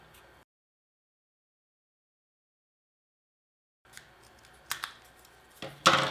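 Scissors snip close up while trimming a paper Dungeons and Dragons miniature of a basilisk, a few sharp, quiet cuts near the end after several seconds of silence.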